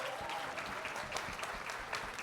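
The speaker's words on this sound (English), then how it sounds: "How about a great round of applause for Hattie and the panelists?" Applause from a convention audience after a panel discussion, a brief, fairly quiet burst of many hands clapping heard from some distance.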